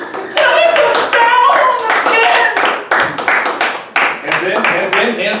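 Bowling teammates clap their hands in loose, overlapping bursts at close range, mixed with excited chatter and voices throughout.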